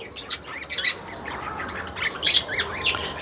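Harsh, shrill sun conure squawks burst out in a few loud calls over a steady background hiss, with quieter chirps between them.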